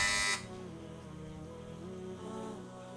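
A quiz competition buzzer pressed: a loud, harsh buzz lasting a fraction of a second, then a quieter lingering tone in the room.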